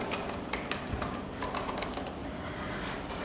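Steady clicking of a computer keyboard, close and continuous, with rapid irregular keystrokes and no talking.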